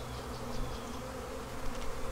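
Steady, dense buzzing from many honey bees close by at a hive, a continuous low drone with no voices.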